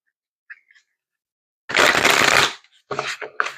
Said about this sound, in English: I'm shuffling with my eyes closed.